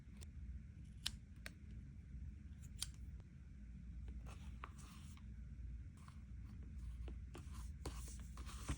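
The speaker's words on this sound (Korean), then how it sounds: "여기를 살짝 잘라줄게요" Small scissors snip a paper sticker in a quiet room for a diary decoration, giving a few sharp, close, quiet cuts with rustling and light handling noises between them.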